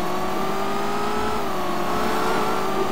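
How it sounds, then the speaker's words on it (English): A supercharged C7 Corvette in the Roblox game Greenville revs hard as it flies past. The engine gives a constant, loud, buzzy drone whose pitch wavers slightly throughout. "Oh, just that flyby with a supercharger."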